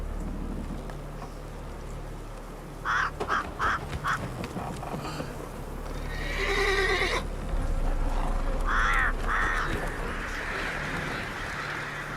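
Roach, the horse in The Witcher 3: Wild Hunt, gives several loud close neighs and whinnies, a short burst of calls followed by a longer drawn-out whinny, over a steady game background.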